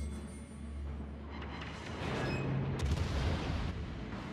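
Heavy naval gunfire from the warship Gibraltar in a naval combat game, a dense rumbling barrage of booms that builds and swells midway, with loud low thuds layered over steady engine-like drone and no talking.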